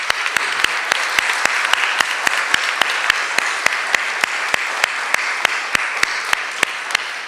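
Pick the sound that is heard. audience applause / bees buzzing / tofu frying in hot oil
audience applause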